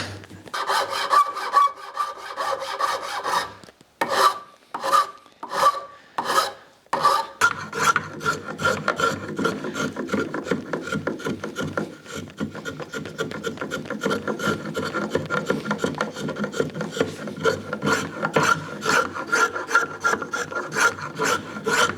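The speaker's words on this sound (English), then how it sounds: "So a little bit of work with the rasp, Japanese saw rasp, and the round rasp," A Japanese saw rasp and a round rasp shape a wooden push block handle with rhythmic scraping strokes up close. Separate slow passes at the start give way to a fast, continuous rasping.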